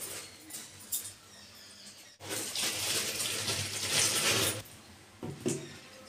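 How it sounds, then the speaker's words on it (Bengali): Tap water runs and splashes as vegetables are washed in a kitchen sink, shifting from quieter trickles to a sustained nearby gush, then easing into short splashes and handling noises. "আর এখন সবজিগুলো সব ধুয়ে নেবো।"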